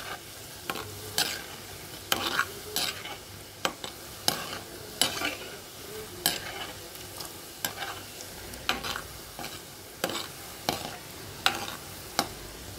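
Pieces sizzling and frying in hot oil in a pan, a steady crackling hiss broken by repeated stirring scrapes at a fairly regular rhythm, close and alone with no talk.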